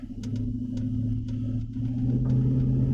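A Jeep Grand Cherokee WJ with a new fuel filter and repaired fuel line runs on a test drive after a rough idle, producing a steady, low engine rumble with a few faint ticks over it and no talk.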